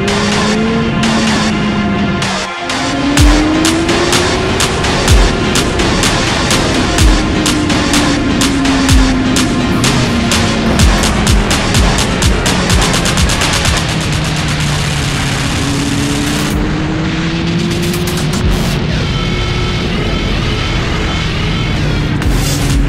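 A Kawasaki Ninja ZX-9R motorcycle engine revs loud and close as it rides a wheelie, the pitch rising and falling in long sweeps with a sharp thump early on, and no talk.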